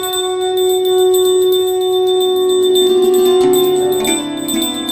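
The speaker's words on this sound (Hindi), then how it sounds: "शंख और घंटी।" A metal hand bell of the kind used in Krishna worship rings loudly and steadily, with rapid repeated strikes that blend into a sustained, shimmering tone. The pitch shifts slightly toward the end. No voices are heard.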